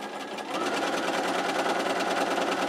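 A sewing machine runs a quarter-inch seam on a charm square for a raw-edges quilt, a close, continuous rapid stitching rattle at a steady pace from start to finish.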